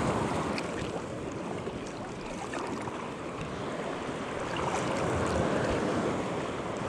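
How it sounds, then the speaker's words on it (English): Ocean surf washes steadily onto a beach on Sanibel Island, a continuous broad roar of breaking waves with light wind buffeting the microphone, swelling slightly toward the end, with no voices. "The waves are starting to come in."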